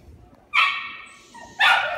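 Two sharp, high-pitched puppy barks or yips from The Sims video game, close and clear, separated by a short pause, with little else around them.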